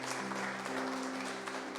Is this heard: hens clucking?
no